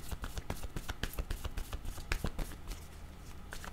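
Tarot cards being shuffled and drawn during a reading, a close, quick run of papery riffles and flicks with no talk.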